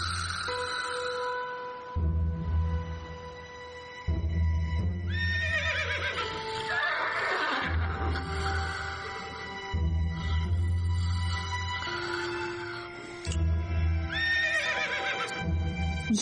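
Horses in a cowgirl movie neigh and whinny repeatedly, several loud, close calls over about sixteen seconds. Hoof clip-clops and a constant tonal background are heard between the calls.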